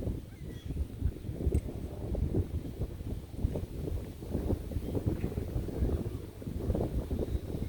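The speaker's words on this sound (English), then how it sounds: "It's so windy." Steady wind buffeting a microphone, a continuous low rumbling roar with gusty swells and no speech.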